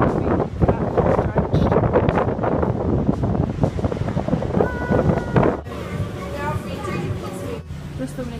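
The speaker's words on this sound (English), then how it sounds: "Oh my God, the wind!" Strong wind buffeting the microphone in loud roaring gusts, with people talking and exclaiming over it.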